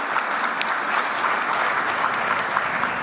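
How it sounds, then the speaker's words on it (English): A large audience at the COP29 world leaders' summit breaks into dense, sustained applause, many hands clapping steadily and loudly for the whole stretch with no pauses and no voices standing out. "give a big round of applause for the work they've done to bring us here"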